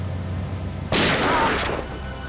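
A single sharp gunshot cracks out loud and close over a low background hum, followed by a brief echoing tail.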